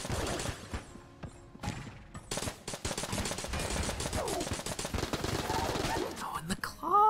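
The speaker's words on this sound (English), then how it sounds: "I got the freaking nail gun. One of the worst guns in the game." Nail gun firing in Enter the Gungeon: a dense, continuous stream of rapid shots layered with clattering game effects and chirps, loud and busy throughout, with a voice faintly present underneath.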